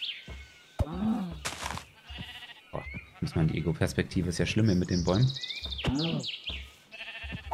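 Sheep bleating in the Minecraft video game, a few short bleats scattered between close, steady German speech that runs through most of the moment.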